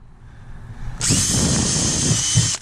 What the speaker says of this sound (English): I'm going to go ahead and drill these holes